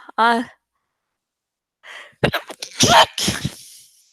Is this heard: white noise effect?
no